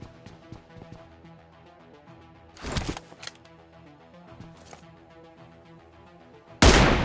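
Gunfire in the mobile shooter PUBG Mobile: a few sharp, separate shots break through a quiet stretch of game sounds, and the last shot lands loudest, close at hand.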